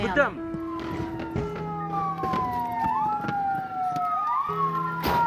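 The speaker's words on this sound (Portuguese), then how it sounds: "A gente vê a ambulância passando debaixo de fogo cruzado, né?" Ambulance siren wailing as it passes through crossfire in the Gaza Strip, a rising and falling tone heard from a middle distance, with sharp cracks and bangs of gunfire throughout.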